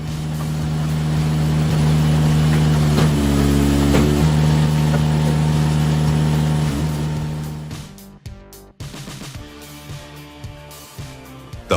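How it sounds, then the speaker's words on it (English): A homemade wood splitter built with a flywheel, track module, geared shaft and motor runs loud and steady with a droning engine hum for about eight seconds, then cuts out and leaves quieter, irregular mechanical clatter. "The homemade wood splitter"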